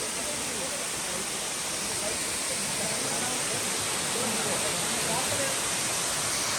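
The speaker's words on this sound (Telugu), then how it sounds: "ఇదే వాసాపూర్ వాటర్ ఫాల్." Vasapur waterfall near Nirmal, set in forest, roars as steady, dense broadband rushing water, loud and unbroken throughout.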